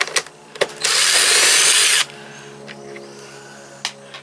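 A power drill backs a screw out of a Bissell ProHeat carpet cleaner in one loud, steady whir of about a second, framed by a few plastic clicks and knocks, close up with no talking.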